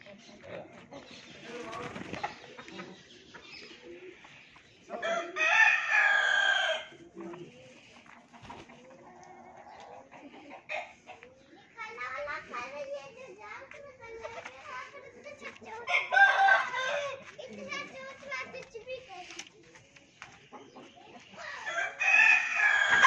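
A rooster crows repeatedly amid clucking chickens at a poultry spot near a mosque compound, with several loud crow bursts spread across the clip and people talking nearby between them.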